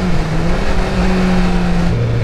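A 2017 Yamaha R6 sport motorcycle on a test ride, engine droning loudly and steadily up close with wind rush, pitch holding then dropping briefly near the end.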